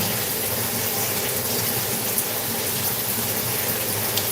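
Tap water pours steadily over food being rinsed in a home kitchen sink to wash off pet hair, a continuous broadband gush with no talk.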